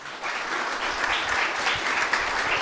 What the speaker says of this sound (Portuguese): Quero uma salva de palmas para todos eles.